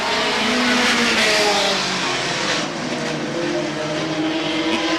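A pack of race cars at Star Speedway roaring around the oval, a dense, loud, continuous engine drone with overlapping pitches from several cars passing, no voices.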